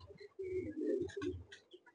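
A Malwai pigeon coos in low, throaty bursts, two or three rolling phrases close by, with faint background chirps and no talking.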